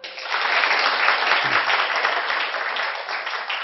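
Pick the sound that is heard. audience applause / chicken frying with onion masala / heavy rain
audience applause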